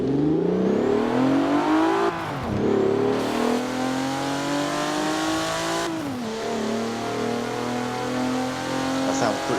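A Mitsubishi car engine in the video game Forza Horizon 4 revs loudly and continuously, the pitch climbing steadily and then dropping sharply at two gear changes before rising again, close and dominant throughout.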